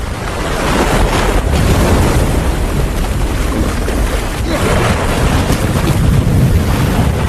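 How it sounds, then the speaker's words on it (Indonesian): Storm waves and strong wind pound a small rubber boat in a castaway film scene, a loud continuous roar of surf and gusting wind buffeting the microphone for several seconds, with no speech. "ombak dan badai terus menghantam perahunya"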